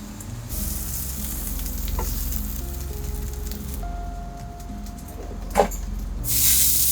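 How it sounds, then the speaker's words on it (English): Lemon juice and butter hit a hot pan aboard a sailing catamaran, giving a steady close sizzle throughout, with a sharp spattering burst near the end and a louder hiss as the liquid boils off. "we deglaze the pan with some lemon juice, a little bit of butter"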